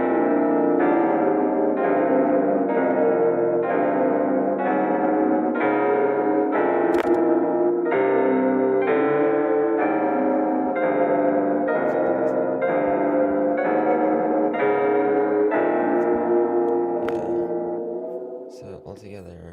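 A synth part played through hybrid reverb with an LFO randomizer on the shape, a repeating pattern of washy, reverberant chord tones that holds steady and then fades out at the end.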